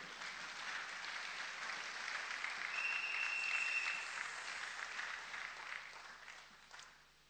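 A church congregation applauds steadily in a faint, reverberant room, the clapping swelling midway and then fading out toward the end.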